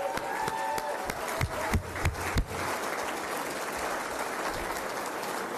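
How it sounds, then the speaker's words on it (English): Audience applause at a Junior Achievement business hall of fame event: steady, fairly loud clapping from a crowd, with a few sharper claps standing out, sustained for several seconds. "take a round of applause"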